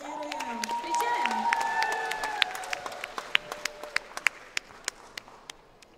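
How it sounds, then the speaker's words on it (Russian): Audience applause at a day of screenings at an animation festival, thin clapping under a speaking presenter at first, then a few sharp, scattered claps standing out as the talk fades. "Аплодируем, аплодируем."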